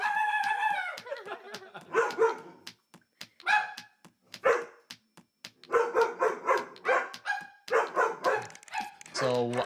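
A big Doberman barks in loud, rapid bursts, mixed with yips and whimpers as she reacts fearfully to a cuddly toy dog, with a person's voice imitating barking among the calls.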